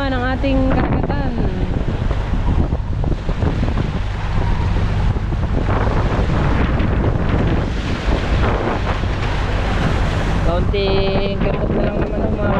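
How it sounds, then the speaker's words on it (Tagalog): Strong ocean waves heard from a boat at sea, a constant roar of surf and water mixed with heavy wind buffeting the microphone, with a voice speaking over it. "Malalakas na naman ang alon."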